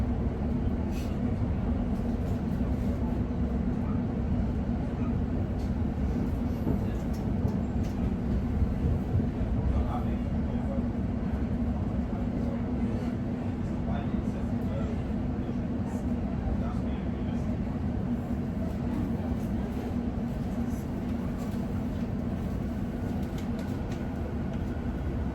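Lioness Line London Underground train to Watford Junction running between stations, a steady loud low rumble and roar of the carriage throughout with faint rattles, heard from inside the car.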